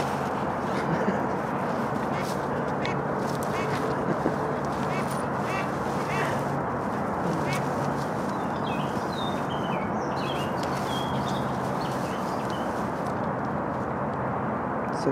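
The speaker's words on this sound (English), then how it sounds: "And this is what I got for ducks." A flock of ducks quacks repeatedly against a dense, noisy outdoor background, the calls overlapping and moderately distant.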